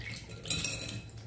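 Utensils clinking against a dish as drained vegetables go in for a homemade pot pie, a brief cluster of close metallic taps and scrapes.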